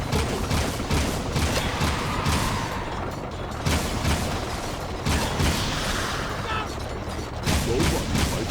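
Gunfire in the video game Jak II, a dense continuous barrage of shots and rattling mechanical noise filling the whole stretch at steady loudness, with no voices over it.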